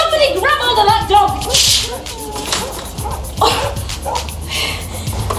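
A dog yips and whimpers excitedly in short bursts, close by, mixed with loud scuffling, shouting and commotion from several people.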